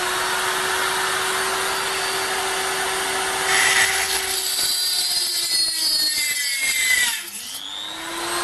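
A cheap HILDA 220-volt, 400-watt electric rotary grinder whines at a high steady pitch, with a lower hum beneath; near the end the motor speed drops and the tone sweeps downward as it winds down.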